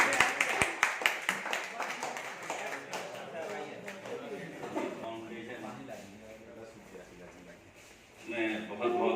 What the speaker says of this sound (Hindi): जोरदार तालियों से आप मोहतरम करेंगे